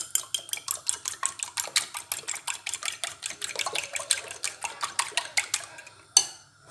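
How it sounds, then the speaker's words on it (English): Eggs being mixed in a bowl for egg sauce give a quick, steady run of close, light clinking whisk strokes, roughly three per second, ending with a single louder clank. "Now it's time for us to mix our egg."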